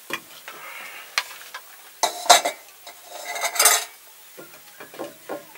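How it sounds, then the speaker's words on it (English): Carrot barfi mixture is pressed into a pan with a utensil, giving scattered scrapes and clinks of metal on cookware, close by with short bursts and quiet gaps, with no voices. "Now I'll press it into the pan."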